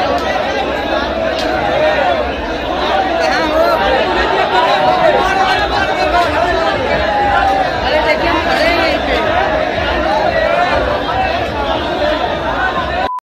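A dense crowd of pilgrims chatters continuously at Bhimchandi temple in Banaras during the Panchkosi yatra, a steady babble of many overlapping voices, loud and close throughout with no single speaker standing out.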